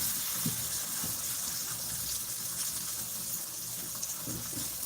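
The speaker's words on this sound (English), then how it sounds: "I got to wash the pan out again." Water runs steadily while a pan is washed out, giving a continuous close rush and splash with a few low clunks of the pan.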